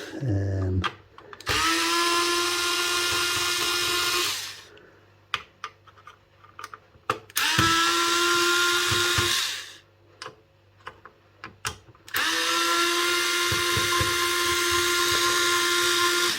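A Parkside cordless screwdriver backing screws out, three loud sustained whirring bursts of the motor separated by quieter gaps with clicks and handling knocks.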